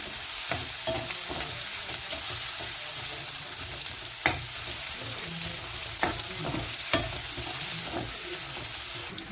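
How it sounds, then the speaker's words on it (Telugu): Onions and green chillies fry steadily in a pan with a constant close sizzle, broken by occasional sharp scrapes and taps of a stirring spoon, no voices. "ఉల్లిపాయలు, పచ్చిమిరపకాయలు బాగా వేయించుకోండి"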